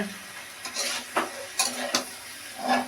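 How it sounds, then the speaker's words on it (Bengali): Malabar spinach (pui shak) cooks in a pan in a home kitchen while a utensil stirs it, making several short scraping strokes over a soft, quiet sizzle. "মা পুঁই শাক রান্না করছে।"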